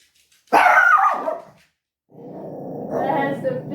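A dog barks loudly and close by in two gruff bursts with a short pause between, the second a longer, rougher stretch that trails into growling.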